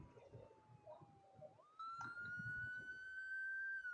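An ambulance siren in a driving game set in Montana. A single steady wail climbs in pitch and grows louder as it comes close, heard over low traffic rumble.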